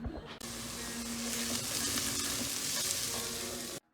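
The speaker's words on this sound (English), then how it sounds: "when the oil is hot, let's add the garlic and the finely chopped onion to it." Garlic and finely chopped onion fry in a pan of hot oil, giving a loud, steady sizzle that holds for several seconds before cutting off abruptly.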